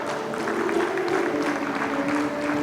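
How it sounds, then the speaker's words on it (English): A conference audience applauds at the close of a session, a dense, steady wash of clapping from many hands filling the hall without pause, with faint murmurs mixed in. "A huge round of applause."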